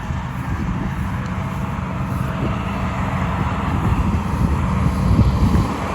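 John Deere hay equipment runs with a steady, loud low-pitched mechanical rumble and wind buffeting, continuous and close throughout with no talk.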